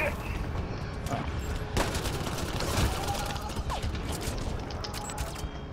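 Gunfire in the video game Mass Effect Andromeda during a firefight, dense rattling automatic bursts and mechanical clatter over a continuous loud background of combat noise.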